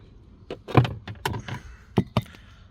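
Plastic clips being pried out of a driver-side dashboard panel on a 2024-25 Hyundai Sonata, giving several sharp snaps and clicks in quick succession, close and fairly loud, with no talk.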